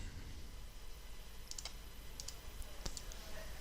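A computer mouse gives a few faint, sharp clicks in quick pairs over a low, steady room hum.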